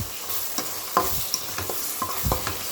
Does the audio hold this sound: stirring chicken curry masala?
yes